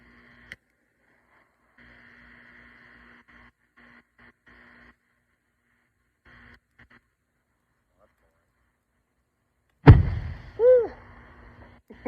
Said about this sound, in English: I just dumped probably about a half gallon of gas on it, and I'm gonna start it with a propane torch